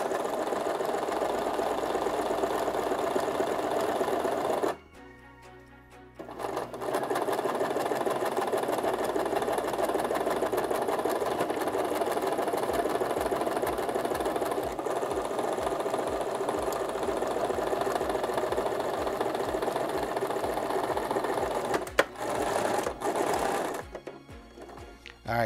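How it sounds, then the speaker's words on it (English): A sewing machine stitches old running-shirt fabric, its needle motor whirring steadily and close, pausing briefly near the start and again toward the end, with no talk over it. "put it in there, lock your pedal down, and then start sewing"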